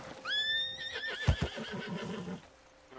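Horse neighing in a video game, a loud whinny with a rising then wavering pitch, followed by a few snorts and a hoof-like thud before fading out.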